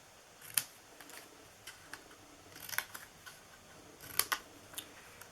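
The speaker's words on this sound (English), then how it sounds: "And then you're going to just cut into these." Scissors snipping paper flaps for an Easter basket, several short crisp cuts spaced irregularly, close and fairly quiet against a hushed room.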